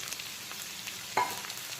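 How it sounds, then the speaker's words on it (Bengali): Taro pieces frying with onions in a pan give a quiet, steady sizzle, with one brief sharper clatter of stirring partway through. "কচুগুলোকেও এরকম 3-4 মিনিট সময় নিয়ে পেঁয়াজের সঙ্গে একটু ভেজে নেব।"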